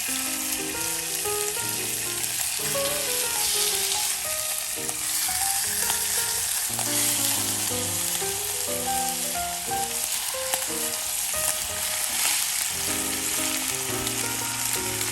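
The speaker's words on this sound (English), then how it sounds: "we're gonna sear our short ribs" Short ribs sear in a hot Le Creuset-style pot, giving a loud, continuous sizzle and crackle that holds steady throughout, with no voices.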